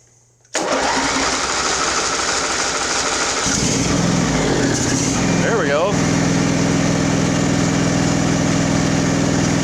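A Craftsman riding mower's engine catches suddenly after near-silence and runs loud and close with a steady, rough drone that settles slightly lower as the choke eases off. A voice speaks briefly over it.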